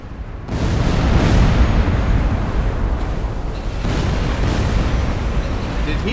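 A torpedo strikes an enemy ship in Silent Hunter 4, with a heavy explosion bursting in after a brief lead-in, then a sustained loud roaring rumble that lingers to the end.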